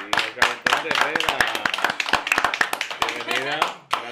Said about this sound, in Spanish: vamos a recibir con un fuerte aplauso Marisol Ortiz